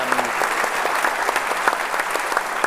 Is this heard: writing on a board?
no